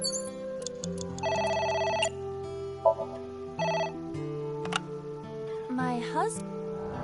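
A telephone rings with bursts of electronic ringing tones amid layered synthetic game music and blips, moderately loud and intermittent across the stretch.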